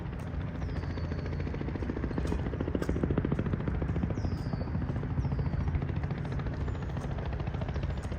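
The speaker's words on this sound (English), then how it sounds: "it sounds like a helicopter" A helicopter passes over downtown Toronto, its steady rotor thrum a low, continuous throbbing beneath the street, moderately distant and without talk.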